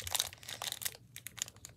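Plastic hockey card pack wrapper crinkling and crackling up close as hands struggle to tear it open, in irregular bursts with a brief lull, no voices.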